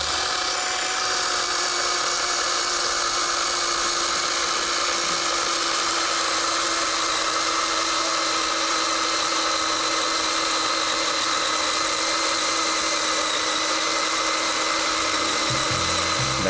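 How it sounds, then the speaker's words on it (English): A Greenworks 40V 16-inch electric chainsaw cuts steadily through a tree trunk, its loud, continuous high-pitched motor whine and chain rasp running unbroken for the whole stretch, close to the listener with no talking. "here's an unedited clip of me cutting through the trunk"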